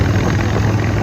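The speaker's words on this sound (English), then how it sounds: "Ultra Classic right here. Yep, sounds good, don't it? My Harley Davidson." A Harley-Davidson Ultra Classic motorcycle idles close by, a loud, steady, low engine rumble with no voices.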